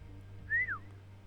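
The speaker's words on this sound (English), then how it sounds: "Miss Carnormi whistled and then an image was displayed." A character in the Psycho-Pass Mandatory Happiness video game gives a single short whistle that rises and then falls, faint and alone over a low background hum.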